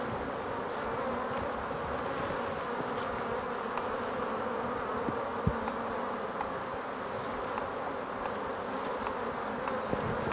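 Bees buzzing steadily during a colony division in a Kenyan top-bar (KTB) hive, a dense continuous hum of many insects close by, with no talking.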